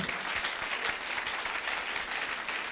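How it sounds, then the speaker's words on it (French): Church congregation clapping hands for the Lord during an explosive prayer service, a dense, steady wash of applause filling the whole stretch without any voices. "Clap your hands for the Lord."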